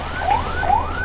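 Fire engine siren at a large fire, a loud wailing tone sweeping up and down in rapid repeated cycles, close by and dominating the scene.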